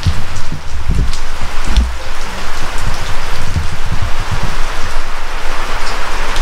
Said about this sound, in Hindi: और सुबह से बारिश हो रही है